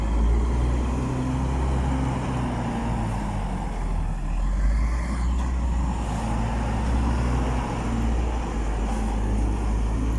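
A truck rolls along a lahar and volcanic sand road in Porac, its engine a steady low drone with road rumble, heard from inside or close by, continuous and fairly loud throughout.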